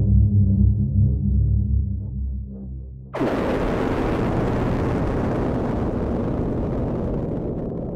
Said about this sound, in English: The alarm had scarcely sounded when a shattering explosion burst the air.